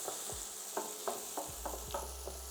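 Onions sizzle steadily in a pan while being kept moving, with a spoon scraping and tapping against the metal in repeated strokes through the constant hiss.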